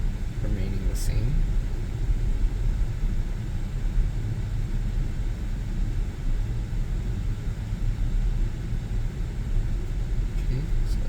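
A 2022 Tesla Model Y drives itself on Full Self Driving Beta, heard from inside the cabin as a steady low road rumble and tyre noise throughout, with someone talking.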